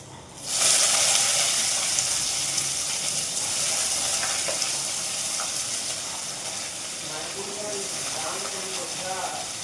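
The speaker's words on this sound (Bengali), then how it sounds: "ডালটা সোমবার দিয়ে পাঁচফোড়ন আর পেঁয়াজ দিয়ে করছি, শুকনো লঙ্কাও দিয়েছি।" Dal sizzles hard in hot oil with panch phoron, onion and dried chilli, a sudden loud hiss bursting in after a quiet start and settling into steady crackling frying, with faint stirring clinks near the end.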